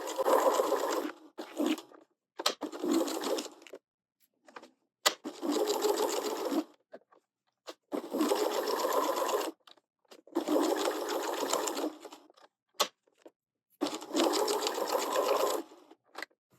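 A sewing machine stitches fabric for a stuffed caterpillar toy, running in about seven rapid, fairly loud bursts separated by short pauses, with no voices.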